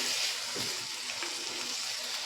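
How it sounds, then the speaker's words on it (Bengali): Chopped tomatoes sautéing in a pan for tomato egg soup give a steady, close sizzle and fry hiss throughout, with faint stirring and no talking. "টমেটোটাকে কিন্তু ভালো করে কষিয়ে নিতে হবে সব টমেটোগুলো যেন একদম গলে যায়"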